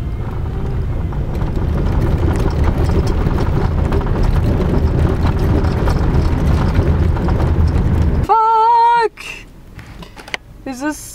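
A vehicle rattles and rumbles over a bumpy gravel road near Point Labatt, a continuous jolting roar with knocks that cuts off abruptly, followed by a brief whistling tone and quieter sounds.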